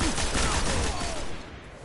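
Heavy machine gun fire in the video game Destiny, a dense, rapid burst of loud shots with a mechanical whine beneath, trailing off toward the end.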